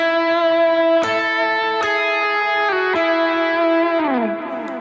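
Sustained distorted electric guitar lead line, a few held notes changing at roughly one-second intervals and sliding down near the end through a passing tone, loud and alone with effects processing.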